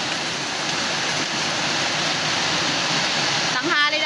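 A dense, even roar of heavy rain and wind from Typhoon Opong in Oriental Mindoro fills the air, steady and loud, with no pauses.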